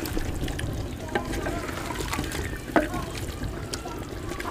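Chopped tomatoes, turmeric and ground red chili are stirred gently in a clay pot over the fire in a village kitchen. The sound is a low, wet sizzle with soft scraping and one brief knock, and no talking.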